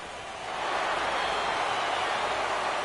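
Rain falling during a baseball game in the video game MLB The Show 17, a steady hiss of rainfall that swells in after a brief quieter start and holds evenly, with no speech.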